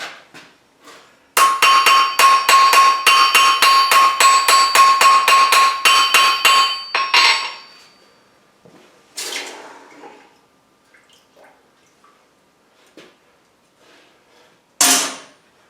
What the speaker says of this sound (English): Just going to bring it back here on the anvil. I'm going to flatten it and straighten it out.